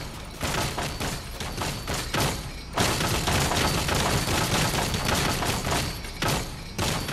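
Continuous video-game gunfire as several players shoot at a chest: a dense, loud barrage of overlapping shots and booms that runs nearly unbroken for about seven seconds, with only brief dips.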